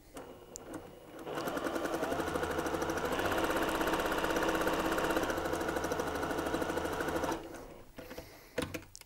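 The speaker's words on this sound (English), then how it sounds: "I'm starting up at the tippy top corner, and I'm going to stitch all the way around to the end" A sewing machine stitches together fabric pieces for a soft indoor ball, starting after a moment of handling noise and running in a steady, fast mechanical whir for about six seconds before stopping.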